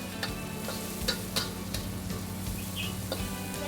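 Chili and onion stir-fried until crisp at a Kelantan street food stall making instant eel noodles: a steady, loud sizzle with scattered clicks and scraping stir strokes throughout, no talking.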